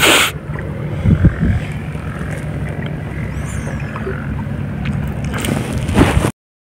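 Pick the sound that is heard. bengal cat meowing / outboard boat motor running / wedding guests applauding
outboard boat motor running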